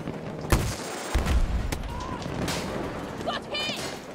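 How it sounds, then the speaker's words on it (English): Incoming gunfire aimed at the player in Battlefield 2042, sharp close shots and booms amid busy battlefield noise, with voices talking over it. "Ooh, someone's shooting at me."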